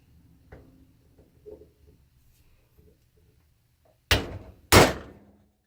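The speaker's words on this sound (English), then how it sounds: "Give it a good old sharp blunt hit, like so. And it loosens them all up." Two sharp, loud metallic impacts strike the bolts on a Kawasaki KV75/MT1 engine case in close succession near the end, after a stretch of quiet with faint handling knocks.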